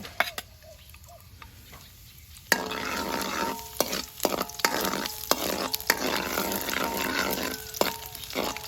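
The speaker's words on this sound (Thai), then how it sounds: "เริ่มจากการใส่กระเทียมลงไปก่อนเลย" Garlic sizzles in a hot pan for a Thai stir-fry, a steady crackling hiss that starts suddenly partway through, broken by sharp scraping strokes of a spatula stirring close by.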